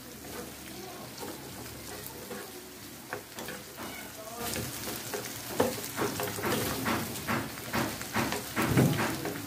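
A hotdog is stirred and fried in a pan, giving a steady sizzle with scraping and clattering stirring strokes that grow busier and louder partway through.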